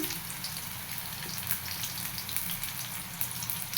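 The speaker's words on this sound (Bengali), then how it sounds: "হালকা হলুদ দিয়ে পটল লাল লাল করে ভেজে নেব" Pointed gourd pieces frying in hot oil with a little salt, a steady close hiss and fine crackle that runs evenly throughout, with no voice.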